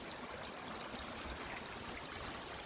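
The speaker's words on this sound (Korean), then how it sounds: "여기 계곡물. 이거 내 땅 안에 있는 계곡입니다." A mountain valley stream on forested land rushes and trickles over rocks in a continuous, fairly loud babble that stays even throughout, with no one talking.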